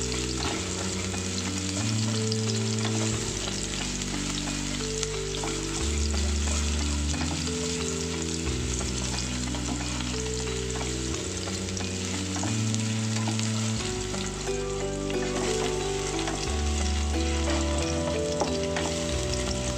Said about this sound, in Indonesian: langsung masukkan ya bawang merah dan bawang putihnya. Kemudian aduk dan gongso-gongso sampai baunya harum.